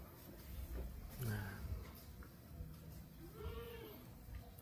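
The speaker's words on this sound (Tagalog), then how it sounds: "Lahat ng kambing dahan-dahan na yan pumupunta doon kasi magpapakain na." Goats on a farm bleat as they gather for feeding, with two or three wavering calls rising over steady outdoor background noise.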